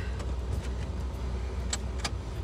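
Inside a moving car, a low steady rumble of road and engine noise, with a couple of light clicks or rattles from the cabin and no speech.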